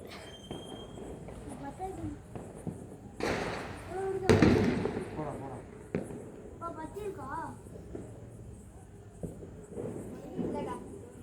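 A 25-shot firework cake goes off outdoors as a few sharp, loud bursts in the middle, with people talking throughout.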